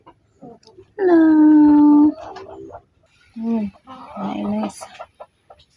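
Backyard chickens cluck and squawk while being fed corn bran mixed with rice. One long, loud, drawn-out call comes first, followed by shorter clucks nearby, with quiet pauses between.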